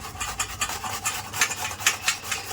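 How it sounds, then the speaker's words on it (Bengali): Carrots being grated for carrot halwa, a steady rhythmic rasping of the vegetable scraped back and forth across a metal grater, close and fairly loud with no voice. "এবারে একটা গ্রেটার দিয়ে আমি গ্রেট করে নেব"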